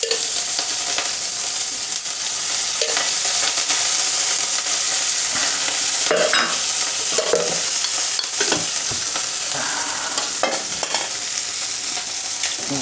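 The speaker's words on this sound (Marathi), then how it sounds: "हिरवी मिरची ही अशी कडक क्रिस्पी होईपर्यंत भाजा, मऊ अशी राहिली नाही पाहिजे." Slit green chillies roasting in hot oil for a crispy poha chivda, a steady loud sizzle with the scrape of a spatula stirring through the pan at intervals.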